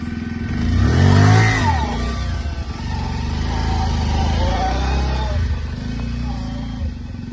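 A motorcycle engine revs loudly and steadily, its pitch rising and falling, while people talk over it outdoors.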